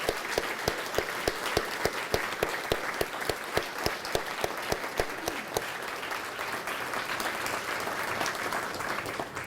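At a celebration honoring cardiac arrest survivors, a large audience breaks into sustained applause, loud and dense for nearly ten seconds with sharp individual claps audible early on, then softening slightly toward the end.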